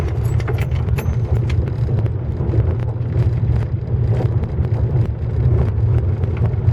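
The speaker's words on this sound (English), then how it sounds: "a car coming" A car approaching along a muddy woodland path in the rainy season, a steady low engine rumble that holds for several seconds, mixed with wind buffeting the microphone and small jangling sounds.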